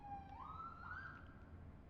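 Emergency siren from a vehicle passing along a busy main road by a junction, a short tone that climbs then holds, faint and far off over a low traffic hum.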